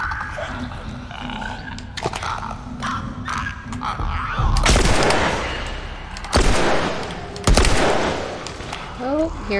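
Gunfire in The Last of Us, several loud bursts of shots of varying length over a busy game soundscape, close and forceful, with voices talking in between.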